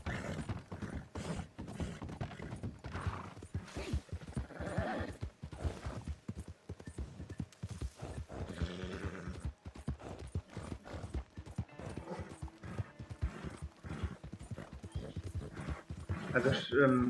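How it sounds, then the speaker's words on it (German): Horse hooves pounding in the Red Dead Redemption 2 Online video game, a rapid rhythmic clip-clop of a horse at speed with occasional whinnies, running under someone talking in German throughout. "Mein Pferd ist schon wieder am Ende"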